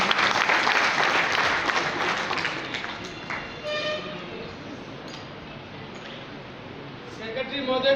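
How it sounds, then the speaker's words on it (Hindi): Audience applause at a Lions Club regional convention in Nagaur, loud at first and then fading to a lighter patter, with speech and a few tonal sounds mixed in over the clapping. "तालियों में कोई कमी ना रखें।"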